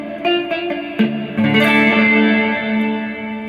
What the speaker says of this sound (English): Next we have hall reverb.